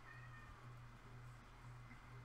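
A stray cat meows faintly and steadily over a low background hum, with no talking.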